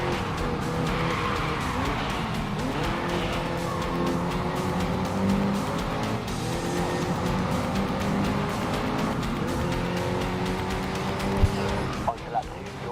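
Race car tires squeal and skid continuously in GRID Legends under a droning engine as the car slides through corners, with a few sharp knocks near the end.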